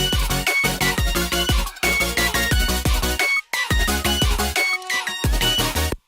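Vocal chop shaped by a ShaperBox preset inside a dense future bass track, rhythmically gated bursts with sharp cut-offs and short gaps, loud and full-range.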